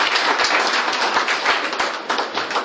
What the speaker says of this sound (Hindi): पदाधिकारी आए हैं तो जोरदार तालियों से का स्वागत।